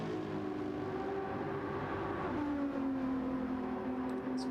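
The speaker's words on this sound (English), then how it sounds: "As you can hear the roaring V10s" Race car engines in a Monza endurance qualifying session of a racing video game, a steady loud drone with rising and shifting engine pitch throughout, no talk over it.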